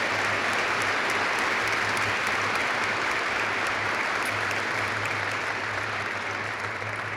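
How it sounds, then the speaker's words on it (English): A crowd at a military airman recognition ceremony applauds the Senior NCO of the Year nominees with steady, dense clapping that holds loud and unbroken from start to finish. "Let's have a round of applause for our Senior NCO of the Year nominees"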